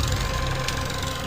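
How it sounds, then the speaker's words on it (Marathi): A tractor engine works in a cotton field, producing a steady, loud, low droning rumble with slight vibration that runs continuously through the short stretch. "बघू शकता ट्रॅक्टर आलेला आहे शेतात आणि ट्रॅक्टर करू राहिला आता"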